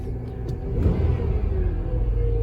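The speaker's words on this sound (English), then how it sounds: "And she's idling high." A 1993 Chevy Lumina APV engine with an idle air control fault idles high, a steady loud low rumble that swells slightly and holds, heard close with no talking.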